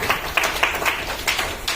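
An audience at an Indian education award ceremony clapping in welcome, a brief burst of several sharp claps in an uneven rhythm, close and fairly loud.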